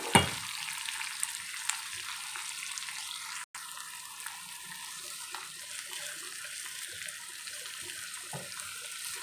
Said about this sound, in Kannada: ಈರುಳ್ಳಿ ಸ್ವಲ್ಪ ಫ್ರೈ ಆದರೆ ಸಾಕು